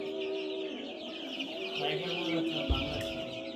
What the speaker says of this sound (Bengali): ওটা ওই পাশে দেশি মুরগি এটা হচ্ছে টাইগার মুরগিটা